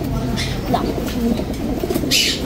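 Pet pigeons, including tricolor birds with blue-barred tails, coo in soft low repeated calls close by, against a steady background hum, with faint chirps mixed in.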